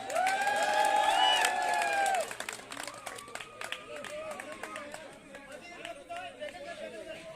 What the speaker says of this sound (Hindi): सागर और मानव के लिए जोरदार तालियां।